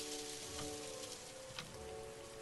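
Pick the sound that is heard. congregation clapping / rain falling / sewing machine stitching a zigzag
rain falling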